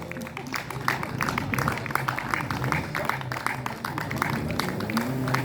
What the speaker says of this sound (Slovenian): prosim še en velik aplavz